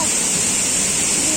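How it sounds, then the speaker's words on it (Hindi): A waterfall at Neer Jharna near Rishikesh pours steadily, making a loud, constant broadband rush with bright hiss, close by and unbroken throughout. "झरने के पास।"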